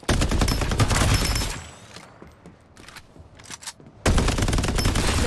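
Automatic gunfire from the Farlight 84 video game, in loud dense bursts for about a second and a half, then quieter scattered shots and clicks, then another heavy sustained burst.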